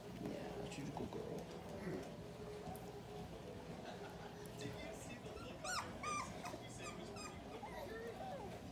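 Five-week-old puppy whimpering and yipping in high, thin squeaks that cluster toward the end, while a person talks softly over them at close range.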